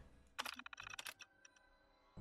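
Quick bursts of clicky keystrokes clatter on a terminal keyboard in Fallout 4, a dense run of taps followed by a few scattered clicks, close and crisp.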